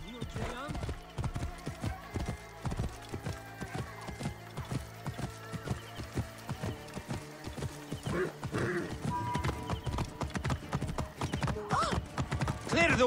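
A horse named Pegasus gallops in Assassin's Creed Origins, with steady rhythmic hoofbeats, clip-clops and an occasional whinny, while in-game characters talk over the ride and a musical score plays underneath.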